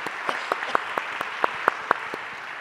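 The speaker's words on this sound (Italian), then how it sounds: "Sì, certo, l'applauso." An audience applauds after a stage dialogue with Andrea Pennacchi, a steady run of claps with a few sharp, distinct hand strikes standing out near the front of a moderate crowd.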